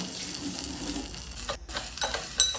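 Soft sizzling of cumin and mustard seeds in hot oil, fairly quiet and close, with a few brief clinks and stirring noises.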